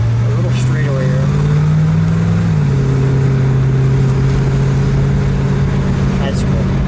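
A 1969 Plymouth Road Runner convertible with a 383 engine drones steadily while driving, holding a smooth tone before the pitch drops with a shift and settles into an even cruise.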